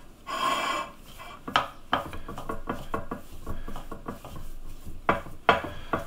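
Repeated chopping and scraping of a utensil against a bowl while cutting flour into mashed potato dough, irregular clattering strikes with a rasping rub, close and fairly loud.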